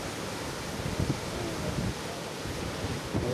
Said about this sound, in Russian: Какая волна.